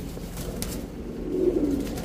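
A muff-footed pair of fancy pigeons coos softly near at hand. The low, rolling calls run on continuously and swell a little louder toward the end.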